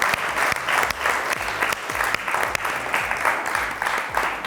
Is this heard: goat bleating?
no